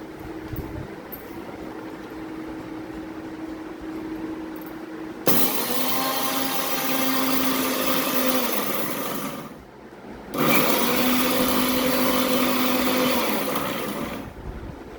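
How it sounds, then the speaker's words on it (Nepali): A kitchen mixer grinder whirs loudly while grinding roasted spices for a Nepali-style mutton pickle, running in two bursts of several seconds with a brief stop between, its high motor whine close and steady. "मसलालाई मिक्सर जारमा मैले हालेर अब पिस्नको लागि रेडी गरेँ"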